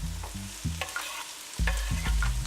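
Green onion and mushrooms sauté in a pan with bursts of sizzle and rhythmic scraping stirs, a brief quieter gap in the middle, then more vigorous stirring.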